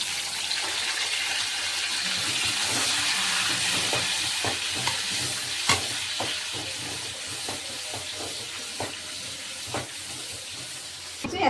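Chopped onions sizzling steadily in a hot pan for green chilli chicken, with scraping stirs and occasional clinks of a spoon against the pan over a continuous frying hiss.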